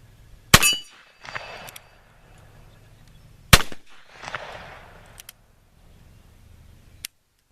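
.357 Magnum revolver firing Hornady 158 grain reloads with CFE pistol powder, two sharp loud shots about three seconds apart outdoors, each followed by a short rumbling echo, with a faint distant clink near the end.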